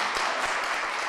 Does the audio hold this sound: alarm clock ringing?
no